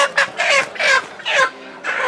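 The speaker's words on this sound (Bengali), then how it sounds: "এটা হলো সোনালী মুরগি" Sonali chickens at a market cluck in several close, loud bursts with short gaps between them, and no talk.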